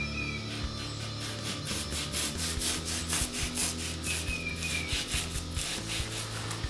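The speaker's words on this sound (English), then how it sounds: "now I got that kind of shaved down with just the saw" A hand saw is drawn repeatedly across filler on a car dashboard, shaving it down in a steady rhythm of rasping strokes, close and fairly loud, with no talk.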